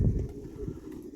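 Young racing pigeons cooing nearby, soft low throaty coos rolling along steadily with no speech over them.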